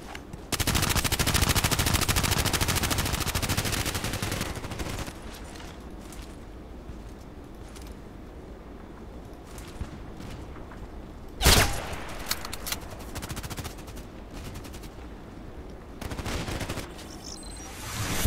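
Bursts of gunfire in the video game Contract Wars: a dense rapid volley at the start, then isolated sharp shots and a loud single crack later, with quieter stretches between.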